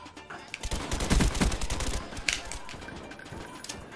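Rapid bursts of suppressed automatic gunfire in the video game Call of Duty Black Ops, a dense crackle of muffled shots close up, with a louder crack partway through.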